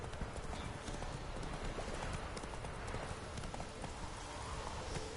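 Roach, Geralt's horse in Witcher 3, gallops in a rapid, steady clip-clop of hooves, loud and continuous, with a voice talking faintly over it.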